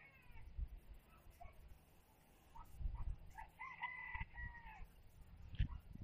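Chickens and a rooster at the Saturday open-air market in Taquarana, Brazil, where goats and sheep are also sold. A rooster gives one drawn-out crow over faint clucking and distant market bustle.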